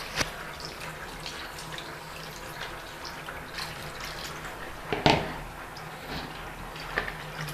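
Clean water is poured over ground meat in a kitchen while it is washed, a soft steady trickle and splash with a few sharper drips and a louder splash near the middle, fairly close.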